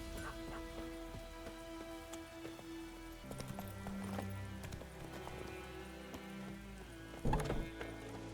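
A horse's hooves clip-clop at a steady walking rhythm in The Witcher 3, with rain falling and a brief snort or whinny near the end, heard at moderate distance in game ambience without talking.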